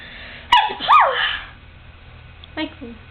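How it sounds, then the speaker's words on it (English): A person sneezes twice in quick succession, close and loud, with a short vocal sound trailing the second sneeze and a faint breath or voice near the end. "So everyone out in the world can see what I look like when I sneeze."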